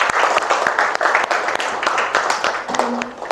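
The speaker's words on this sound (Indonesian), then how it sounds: "Tepuk tangan buat kalian semua." Applause from a classroom audience of teachers after student presentations, dense clapping lasting a few seconds at steady loudness with brief spoken murmurs mixed in.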